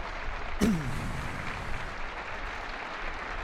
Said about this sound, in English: He takes the applause from both sets of supporters and players as well.